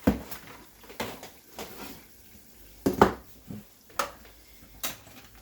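Spoon being fetched in a home kitchen, with soft scattered clinks and clatters of dishes and cutlery, about six brief knocks spread unevenly over a few seconds at low volume.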